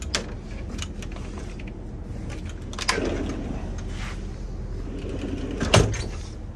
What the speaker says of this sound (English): So we got some pocket doors.